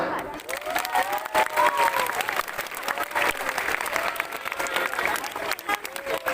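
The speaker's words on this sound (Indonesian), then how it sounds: "Tepuk tangan semuanya." Crowd of students clapping at an outdoor school flag ceremony attended by the district police chief in Ogan Komering Ulu, a steady dense patter lasting throughout, with scattered voices and faint talk mixed in.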